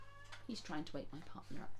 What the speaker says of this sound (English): Apologise if you can hear my cat in the background.